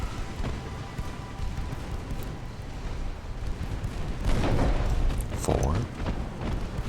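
Naval gunfire from the warship battle game Ultimate Admiral: Dreadnoughts: a steady low rumble of distant broadside shots that builds into heavier booming bursts near the end.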